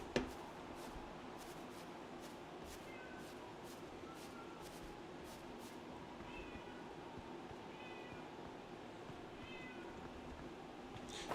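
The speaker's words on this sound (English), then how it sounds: "So my cat's meowing." A house cat meows faintly in the background several times over a steady low hum of game sound, with no talking.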